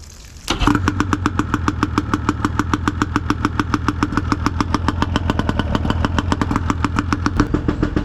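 Pontoon boat outboard motor running on its first water test, starting up abruptly and settling into a loud, steady, rapidly pulsing drone held close for several seconds before easing off at the end.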